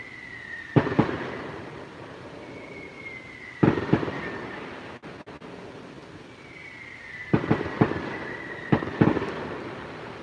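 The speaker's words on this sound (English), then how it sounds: "It's that the fireworks are ripping, y'all." Fireworks burst in the Smoky Mountains, several sharp cracks and pops arriving in spaced clusters, some preceded by a rising whistle, heard from a moderate distance over steady background noise.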